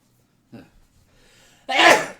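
A single loud, close sneeze after a brief breathy intake, sharp and explosive.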